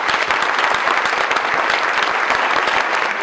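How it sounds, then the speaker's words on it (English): Dense, loud audience applause for a panel at a university civic engagement summit, a steady continuous clatter of many hands throughout. "Can I have a round of applause for our panel?"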